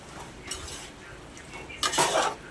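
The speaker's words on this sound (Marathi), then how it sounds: "आता आपण ह्याच्यामध्ये छान असं दही मिक्स करून घ्यायचं आहे आपल्याला" Yogurt being stirred into half-cooked vegetables for veg biryani, soft clinks and scrapes of a spoon against the pot, a louder stir toward the end.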